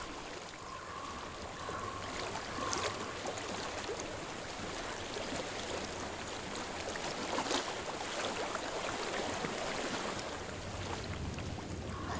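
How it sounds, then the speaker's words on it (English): Flowing stream water from Hellblade: Senua's Sacrifice, a constant rushing wash that swells slightly at moments, with a faint steady low hum underneath and no voices. "I hear water."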